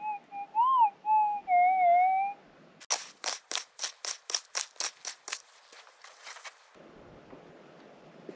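Metal detector tone while prospecting for gold: a clear warbling signal that sweeps and wavers for about two seconds, followed by a rapid run of sharp rhythmic clicks and faint rustling.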